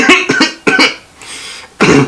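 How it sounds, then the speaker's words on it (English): A few short, sharp coughs in quick bursts, close to the microphone, separated by a brief pause before a final cough. "Sorry, I had a little cough there."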